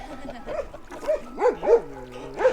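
A dog at a fishing farm on Bai Tu Long Bay in Ha Long Bay gives a few short yips and whining barks, close by, with brief pauses between them.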